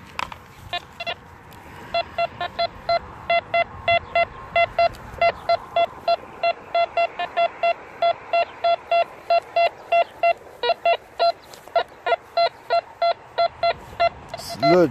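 A metal detector sweeping over a buried target while hunting wheat pennies and relics gives a steady series of short, evenly spaced beeping tones that repeat for the whole stretch, loud and close, with no talk over them.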